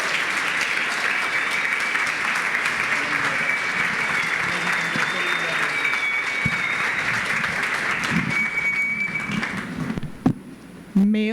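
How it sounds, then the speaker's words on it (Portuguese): A church congregation gives pastor Ana Bento long, loud, sustained applause with dense clapping that runs for about ten seconds before tapering off into quieter sounds. "Eu queria que você recebesse com um aplauso assim muito grande"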